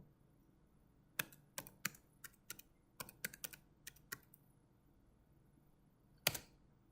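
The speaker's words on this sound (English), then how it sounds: "type in Pi, your password over by your USB keyboard" Keys on a USB keyboard tapped while entering a password on a Raspberry Pi setup: a quiet, irregular run of about a dozen sharp clicks, then a pause and one last firmer keystroke, close and alone.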